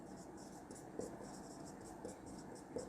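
Chalk or marker writing on a classroom board, soft scratchy strokes in short bursts, under a teacher's ongoing talk.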